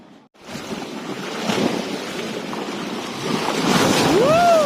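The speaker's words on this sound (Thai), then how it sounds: "บางทีมันมาเป็นคลื่นทีละลอกละลอกหนึ่งน่ากลัวมากเลย" Waves wash up on a sandy beach in rain and strong wind, a continuous rushing surf with swelling surges, wind buffeting the microphone and a brief whistle-like tone near the end.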